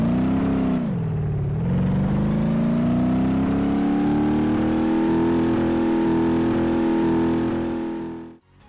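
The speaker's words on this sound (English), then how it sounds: "If you try to drive the car, you'll only manage to rev the engine, but the car won't move." A car engine in BeamNG.drive revving hard while the vehicle stays stationary, a loud close whine that dips then climbs steadily in pitch for several seconds before cutting off abruptly.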